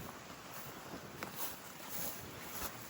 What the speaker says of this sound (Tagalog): Lakas ng hangin, parating kasi ulan